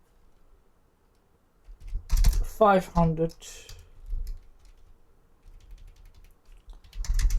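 Typing on a computer keyboard while coding a tower defence game, with soft clicks between and under a man's speech.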